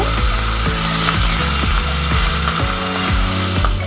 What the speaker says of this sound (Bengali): কাতলা মাছের মাথা দুটো খুব ভালো করে লাল লাল করে ভেজে নিতে হবে